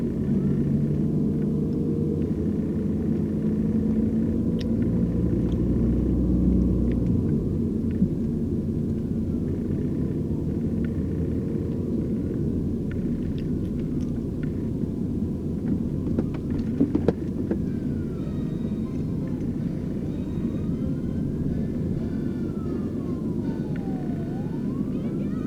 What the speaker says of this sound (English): Well, I'm stuck behind this big ass truck.